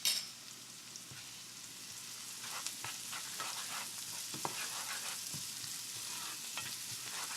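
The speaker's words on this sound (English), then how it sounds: "you're going to leave the onions to cook so they just turn kind of translucent and then light brown" Onions with minced garlic paste frying in a pan for a fish curry, a soft, even sizzle continuing throughout with occasional faint taps and scrapes of stirring.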